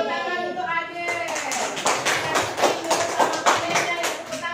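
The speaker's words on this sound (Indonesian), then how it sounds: "Tepuk tangan untuk adik." A class of middle school students in grade seven bursts into applause in a classroom, dense steady clapping from many hands heard close, with some voices mixed in.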